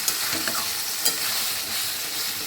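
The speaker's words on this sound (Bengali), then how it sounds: "এখন আপাতত চিংড়ি মাছটা হচ্ছে, এই দেখো আস্তে আস্তে তেল ছাড়ছে" Large prawns frying in oil in a small wok, a steady close sizzle with a few faint scrapes and clinks of stirring throughout.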